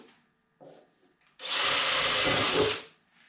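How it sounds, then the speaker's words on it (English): A sharp drill bit bores holes through a part of a Columbia Extreme Auger 13 HP, 33-inch snowblower: one loud burst of drilling, about a second and a half long, close up, preceded by faint handling noises. "just pierce a hole on each side, like so, with a sharp drill bit"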